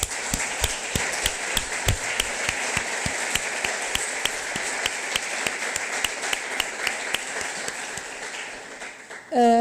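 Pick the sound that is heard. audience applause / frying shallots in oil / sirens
audience applause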